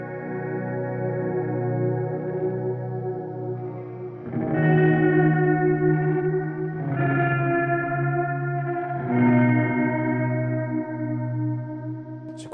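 An electric guitar plays held, sustained chords through a Strymon Timeline set to a pattern delay, and the repeats sound dark, warbled and tape-like. The sound is loud and washy, swelling with each new chord, and no one speaks.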